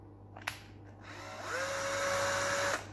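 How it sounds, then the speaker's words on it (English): A step drill bit enlarges a hole in a Terminator eye part up to 12mm, starting with a click and rising into a steady high-pitched whine that holds close and loud before cutting off. "So what you need is one of these step drill bits that goes up to 12mm."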